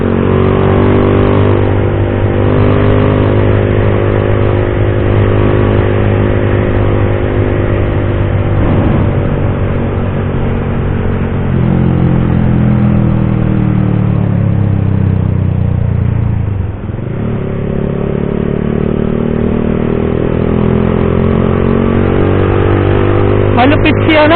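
A Honda Click 125 motor scooter engine drones loudly and steadily nearby, its pitch rising and falling as it revs and eases off, with voices talking over it.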